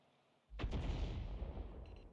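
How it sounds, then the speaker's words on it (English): Artillery fire in a tank video game: a loud, sudden burst of booming gunfire breaks out of near silence and rumbles on as a sustained barrage, with a faint higher rattle near the end. "enemy Arty is focusing on them at the moment"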